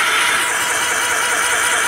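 A Maruti Alto 800 CNG with a timing belt fault cranks weakly, a loud, harsh, continuous whirring grind that never catches, with no clear firing beats.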